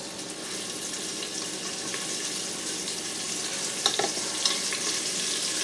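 Beef pieces sear in an Instant Pot on sauté for boeuf bourguignon, producing a loud, even sizzle up close, with a few brief clatters as more pieces go in.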